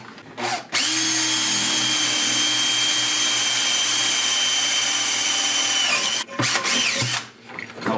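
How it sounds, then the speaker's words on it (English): A power drill bores through a golf cart battery tray on a 2006 Club Car DS 48-volt electric cart, a loud steady whine holding for about five seconds after a brief start, then stopping and sputtering. "Now I'll drill it all the way through."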